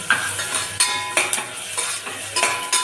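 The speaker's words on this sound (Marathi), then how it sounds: "आता मी याच्यामध्ये मिरची आणि ते अद्रक लसणाची पेस्ट याच्यामध्ये घालते।" Chili and ginger-garlic paste frying with reddened onion in a pan, a steady sizzle broken by a series of close, rhythmic stirring scrapes of a utensil against the metal.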